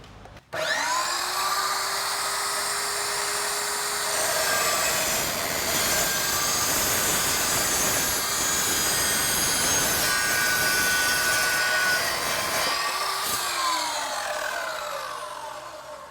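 An Evolution EVO SAW 380 chop saw cuts through steel held in its integrated vise, a loud sustained metallic whine and grinding that spins up sharply, holds for about twelve seconds, then winds down.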